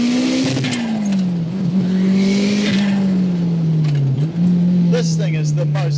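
Turbocharged Lotus Elise making about 320 wheel horsepower, its engine droning loud and close as it pulls through the gears with short dips at each shift, while a voice talks over the top.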